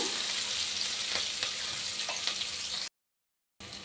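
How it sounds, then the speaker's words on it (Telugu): Green chillies fry in oil in a pan for hotel-style sambar, giving a close, continuous sizzle with faint stirring clicks that cuts out briefly near the end, with no voices. "ఇవన్నీ ఇలా చక్కగా ఆయిల్లో ఫ్రై అవనిద్దాము"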